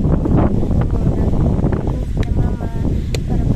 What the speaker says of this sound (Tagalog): Tagkalakas ang hangin dito.